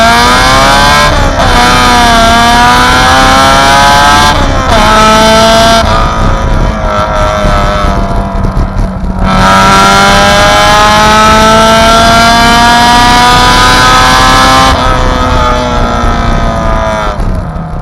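Honda S2000 engine revving hard to high rpm, loud and close with a shrill, superbike-like wail that rises and falls through several pulls, no talk.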